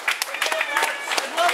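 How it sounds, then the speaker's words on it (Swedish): A short burst of scattered applause is heard, with voices mixed in. "En applåd, kom igen en applåd."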